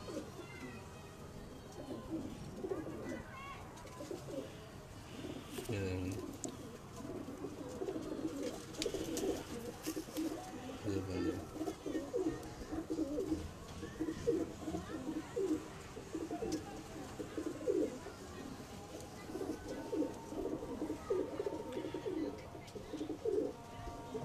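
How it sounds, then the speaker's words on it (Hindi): Teddy pigeons cooing on a rooftop loft, soft repeated throaty coos in an ongoing murmur at moderate distance, with faint background noise and occasional indistinct voices. "टैडी कबूतर है जी दोस्तों"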